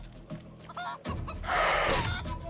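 Chicken in the Divinity: Original Sin 2 game clucks in a few short bursts, then lets out a louder squawking crow, close and without talk.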